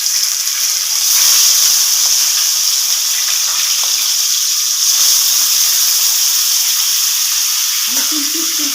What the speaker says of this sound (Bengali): এখন আমি মাছগুলো তেলের মধ্যে দিয়ে দিচ্ছি।